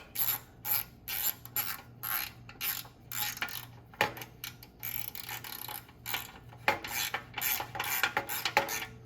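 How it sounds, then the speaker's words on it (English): A hand wrench ratchets on rear brake hardware of a 1985-87 Honda Elite CH150 scooter, with quick clicking strokes in short bursts, close and clear, and no talking. "I'm going to start that one. With the wrench."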